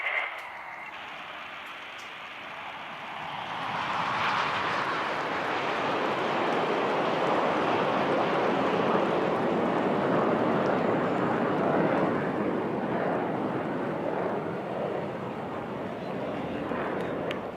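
Indian Air Force Surya Kiran jets flying at an air show over Chennai Marina Beach, a broad rising jet roar that swells and sustains loudly, with crowd noise and a brief voice near the start.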